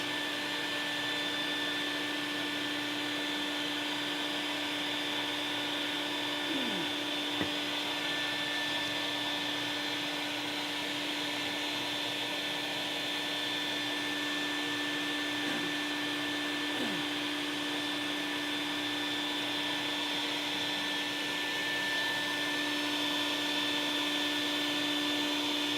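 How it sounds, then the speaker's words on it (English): Vacuum running continuously while sucking up bees from a hive removal, a steady droning whine with a few faint brief knocks and no talking. "Getting ready to vacuum up those bees."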